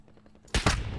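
Sniper gunfire in an online battle royale shooter, a sudden loud crack followed by a second shot and a trailing echo, sharp and close after a quiet start.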